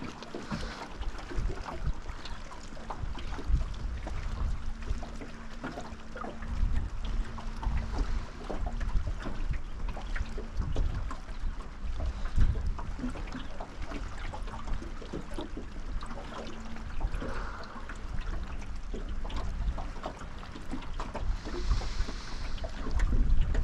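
Strong wind buffets a GoPro microphone with only a small sock windscreen in a steady low roar with gusts, over faint splashing water while fishing at Karumba.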